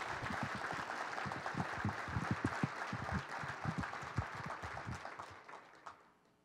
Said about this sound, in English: I want each of you to give yourselves a round of applause